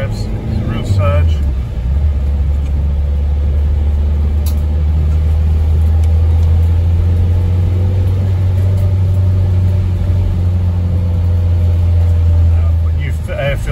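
A 2003 Renault Trafic 1.9 dCi van with low power and no boost below 2,500 rpm, driven flat out: a loud, close, steady engine drone that holds around 2,500 revs throughout without climbing.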